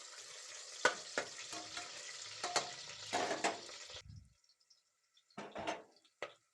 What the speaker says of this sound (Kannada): ಅದಕ್ಕೆ ಮೆಣಸಿನ್ಕಾಯಿ ಈರುಳ್ಳಿ ಫ್ರೈ ಮಾಡಬೇಕು ಚೆನ್ನಾಗಿ